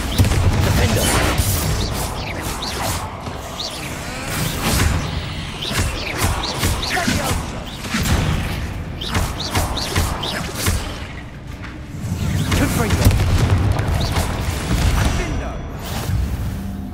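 Confringo blasting spells fired repeatedly in Hogwarts Legacy, producing a steady run of loud booms, whooshes and crashing impacts through a busy battle, with a voice calling out spell names in between.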